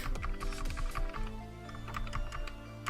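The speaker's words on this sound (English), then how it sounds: "So you want to hit enter or return on your keyboard to get it to adjust." Computer keys are pressed in a series of sharp clicks with a steady tonal drone beneath, as someone works in a pixel-art paint program and hits the enter key.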